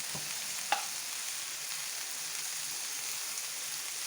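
Onions browning in a pan with turmeric powder just added give a steady, soft frying hiss throughout, with one brief stir or clink near the start; no voices.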